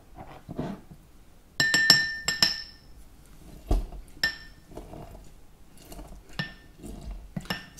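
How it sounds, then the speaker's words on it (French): A lime being muddled in the bottom of a cocktail shaker for a Cuba Libre: scattered knocks and bright glassy clinks in irregular bursts, close and moderately loud, without talk. "Donc tout d'abord, on va écraser notre lime"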